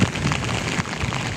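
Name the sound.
heavy rain in Metro Manila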